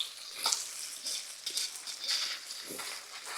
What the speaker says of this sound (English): make sure you scrape the bottom of that pan